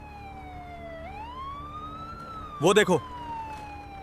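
An ambulance siren wails with rising and falling pitch, growing steadily as it approaches, while a brief shout breaks in partway through.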